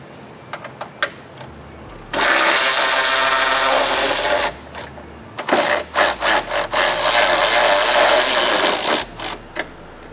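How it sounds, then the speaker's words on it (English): Power tool with an 18mm socket spinning out bumper bolts on a GMC Sierra AT4X truck, two long loud whirring runs, the second broken into several short bursts, with clicks and clanks in between. "we've got 2 bolts that we're gonna need to remove. Gonna be using an 18mm socket for these guys."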